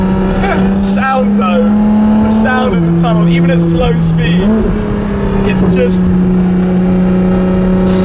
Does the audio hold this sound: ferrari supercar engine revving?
yes